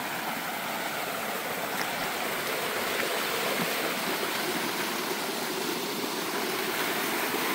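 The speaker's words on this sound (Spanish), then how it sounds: "cómo las cascadas que antes estaban muertas hoy ya están vivas con tanta corriente como esta" Rushing river current pours over waterfalls in full flow among mountain rocks, a steady, dense roar of water that holds constant throughout, close and loud, with no voices.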